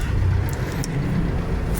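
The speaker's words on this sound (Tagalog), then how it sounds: "medyo pa-traffic na dito" Road traffic noise heard from inside a taxi: a brief, continuous low rumble of engines and road surface, with no one talking.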